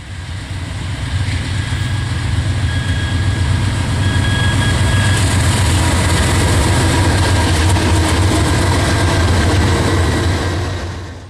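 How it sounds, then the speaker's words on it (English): Norfolk Southern freight trains rumble overhead along the Delaware River, a loud sustained heavy rolling roar that builds in and holds steady for several seconds before easing slightly at the end, with no talking. "While the modern freight trains rumble overhead"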